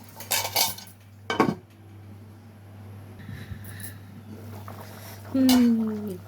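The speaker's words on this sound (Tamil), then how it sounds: "கொஞ்ச நேரம் அப்படியே மேலே மூடி வைப்போம்" A metal lid clatters onto a cooking pot where a spicy Tamil stew of eggplant, pumpkin and papad simmers, with a couple of sharp clanks and rattles up close and a brief metallic scrape near the end.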